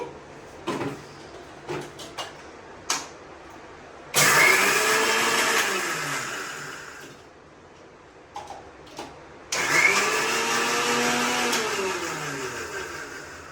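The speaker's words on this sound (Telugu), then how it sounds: "ఇదిగోండి మిక్సీ అయితే వేసాను" A mixer grinder whirs loudly in two bursts of several seconds each while grinding chutney, separated by a pause with a few clicks and knocks.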